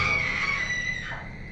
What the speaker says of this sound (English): suddenly, a woman's scream is heard.